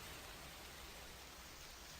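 Gentle drizzle rendered as a soft, even hiss of fine rain, faint and continuous with no distinct drops or other sounds standing out.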